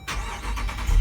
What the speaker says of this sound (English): Now I'm gonna go ahead and turn it on, press the brake, just like every other car.